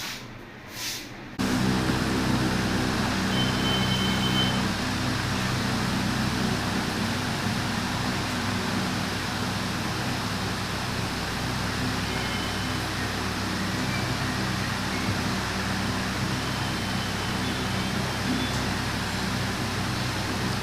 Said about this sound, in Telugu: వర్షం సౌండ్ కాదు ఫ్యాన్ సౌండ్ అది